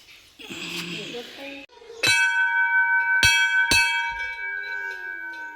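A metal temple bell at a Peddamma goddess shrine is struck several times, ringing out with sharp clangs and long shimmering tones that linger and decay, loud and close, after some faint voices at the start.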